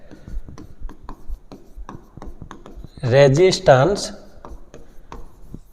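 A pen scratches and taps on paper in short strokes while a physics lesson on an AC circuit with an inductor is written out, with a brief stretch of someone speaking in the middle.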